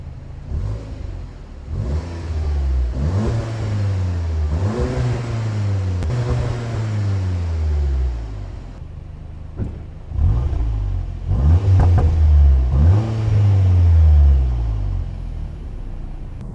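Seat Leon Cupra Sportstourer ST 2.0 TSI 300 DSG 4Drive engine revs in repeated rising and falling sweeps, a muffled mid-range drone climbing and dropping several times, close and fairly loud with no talk over it.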